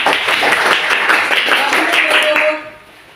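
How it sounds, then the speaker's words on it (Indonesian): A classroom claps for a student group's presentation, brisk and fairly close for a little over two seconds before the clapping stops abruptly. "Tepuk tangan"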